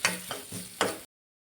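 Grated coconut and mustard seeds fry in a pan with scraping stirs, three distinct sweeps over a soft sizzle, close and moderately quiet.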